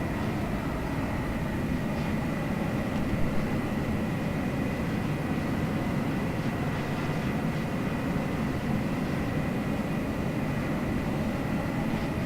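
An F-104 Starfighter jet engine idles in a flight simulator video game, producing a steady, unbroken roar with a constant high whine layered on top, and no talking.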